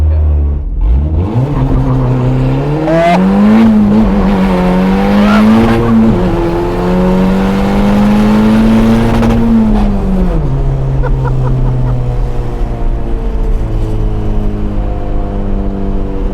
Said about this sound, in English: You want to do a launch? yeah, let's launch it.